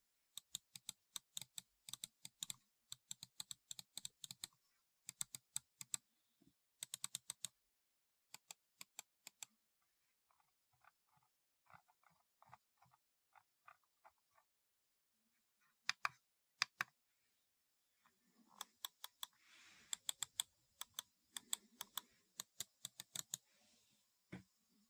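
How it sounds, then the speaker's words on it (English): Quiet, crisp clicks of a Bakth RGB gaming mouse come in quick clusters separated by short silences, close up and isolated. "And this is what the mouse clicks sound like."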